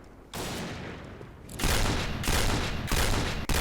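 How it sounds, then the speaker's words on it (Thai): Rapid automatic gunfire from an AK-style rifle in the shooter game Point Blank, loud sustained bursts of fire with short breaks, no speech. "เฮ้ยเดี๋ยวเดี๋ยวมึงยิงรัวจังวะ"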